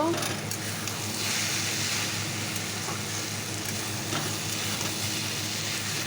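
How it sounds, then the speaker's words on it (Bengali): Ash gourd slices frying in a pan on a home stove, a steady broadband sizzle that hisses continuously for several seconds at an even level. "চাল কুমড়ো ভাজা বসিয়ে দিয়েছি"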